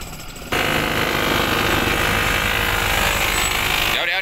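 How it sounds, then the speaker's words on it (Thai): A farm tractor engine runs close by at a construction site where set concrete is being broken out of a mixer drum, giving a loud, steady, chugging drone that begins abruptly and continues throughout. "ขับรถไถแล้วทีนี"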